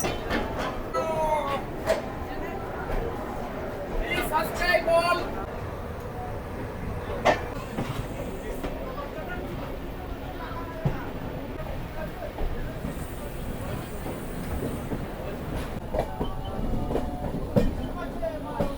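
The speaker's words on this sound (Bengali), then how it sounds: "আমাদের পাহাড়ি এক্সপ্রেস ছেড়ে দিল হাওড়া থেকে" The Paharia Express, Howrah to Digha, rolls out of Howrah station with rhythmic clattering and rumbling, steady throughout, with people talking over it and occasional squeals.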